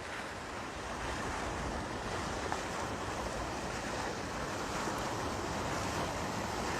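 Ocean waves roll and wash steadily at Waikiki, Oahu, a constant broad surf roar with some wind buffeting the microphone and no voices.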